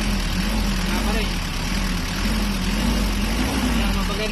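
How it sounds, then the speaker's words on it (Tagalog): Nissan Urvan diesel van with a TD27 engine running steadily, a low rumbling drone with a wavering hum, close and continuous, while someone talks over it. "Pakinggan mo yung ulong makina mo."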